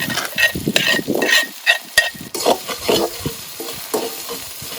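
Pork kaprao stir-fried over a charcoal stove, with irregular clattering scrapes and tosses of the spatula over a soft sizzle, close and moderately loud.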